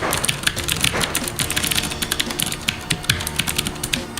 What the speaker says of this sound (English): I love my mechanical keyboards.